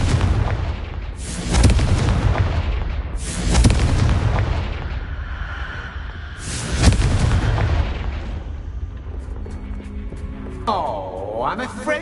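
Repeated deep booming blasts from the Confringo spell in a Harry Potter video game, three or four loud explosions a couple of seconds apart, each rolling off before the next, with game sounds in between.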